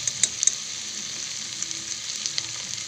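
Pork sizzles steadily in hot oil with meat masala, coriander powder and cumin, a close, even crackling hiss with a few sharper pops and no talking.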